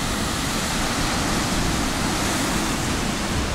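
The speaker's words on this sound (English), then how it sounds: "just watch the sea, the power of the ocean" Rough sea waves on Taiwan's east coast roar in a dense, continuous wash of surf, loud and steady with no voices.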